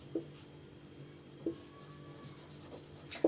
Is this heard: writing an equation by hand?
yes